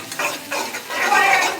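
Close, steady frying sizzle from a pan while making pasta, swelling in bursts with scraping stir sounds and no talk.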